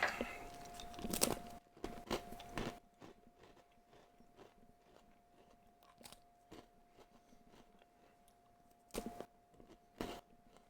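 Someone chews a pretzel close up, with loud crunchy bites at the start followed by softer, irregular chewing and a few more sharp crunches near the end.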